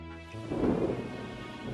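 Animated weather effect of a thunder rumble swelling over falling rain, a low rolling boom building and fading within a couple of seconds, fairly soft with no voices.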